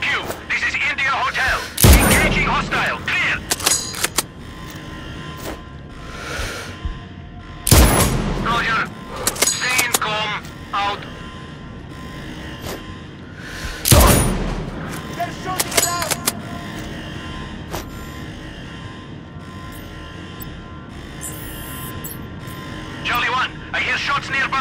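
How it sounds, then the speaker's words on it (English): Close gunshots in Sniper Ghost Warrior Contracts 2 boom out as three heavy blasts spaced several seconds apart, with smaller shots and clatter in between, over continuous game noise. "I hear shots nearby!"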